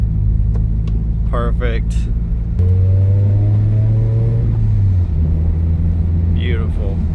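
A turbocharged Subaru BRZ, just fitted with a new clutch throwout bearing, pulls hard in third gear, its engine note rising steadily under a loud in-cabin drone, with someone speaking briefly over it.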